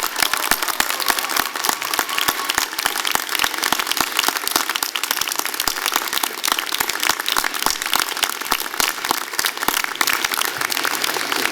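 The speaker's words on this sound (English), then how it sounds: "Let's give them a huge round of applause." A graduation convocation audience claps steadily and loudly, a continuous dense wash of many hands applauding throughout with no break.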